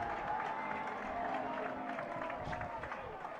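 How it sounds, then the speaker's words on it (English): A home crowd at a men's college soccer match between Maryland and Michigan cheers and applauds after a goal, a broad roar beneath a commentator talking over it. "GK firing up his home crowd"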